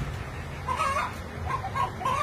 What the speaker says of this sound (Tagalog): Unsa lang kaputak? Ay, manok.